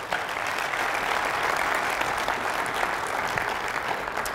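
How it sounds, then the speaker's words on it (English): Steady applause from an audience at a DJ and event industry conference presentation, a dense even patter of many hands at moderate loudness throughout. "Let's give Nick a round of applause again"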